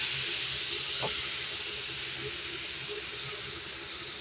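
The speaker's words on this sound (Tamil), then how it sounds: "கேரட் போட்டு அதையும் நல்லா வதக்கிக்கலாம்." Carrots and shredded cabbage stir-fry in a pan for a Tamil three-colour vegetable poriyal, giving a steady sizzling hiss with one brief clack of a utensil near the start.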